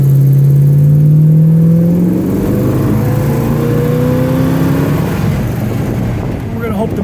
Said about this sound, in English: All right, we'll give it one little stomp here.